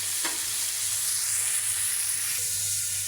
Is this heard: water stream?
no